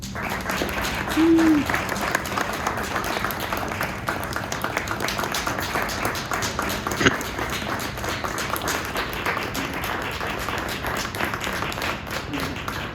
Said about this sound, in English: Could we perhaps give a big round of applause to the Kings?